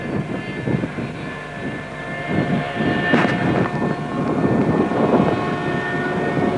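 A model jet aircraft at a jet rally roars steadily as it comes in to land, its turbine whine swelling and fading slightly as it passes. The engine is loud and continuous, with no voices.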